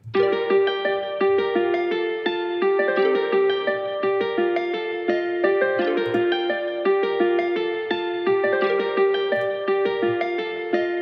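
Synth choir preset playing sustained chordal tones within a Christmas beat built in Studio One, steady and loud with soft rhythmic pulses underneath and no speech.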